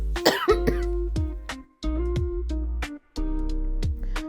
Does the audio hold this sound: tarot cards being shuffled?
no